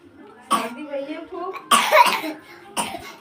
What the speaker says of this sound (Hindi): देखो इसको खांसी, बहुत तेज़ खांसी हो गई है